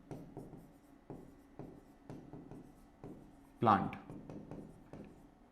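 Marker or chalk strokes scratch across a classroom board in a steady run of short taps and scrapes, with a brief louder rub partway through, while a teacher speaks briefly.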